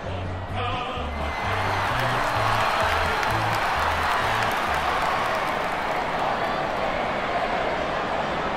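Stadium crowd in the AFL Evolution football video game, Hawthorn Hawks versus Sydney Swans, cheering and applauding as the teams run onto the ground: a dense, steady roar with scattered clapping throughout, faint low tones early on.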